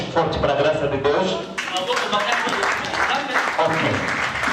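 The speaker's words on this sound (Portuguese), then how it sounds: "Aplausos forte para a graça de Deus." Church congregation applauding together, a dense run of clapping that grows fuller partway through and continues steadily, with voices heard in the mix.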